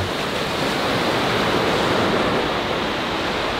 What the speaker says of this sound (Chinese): 而且今天海浪很大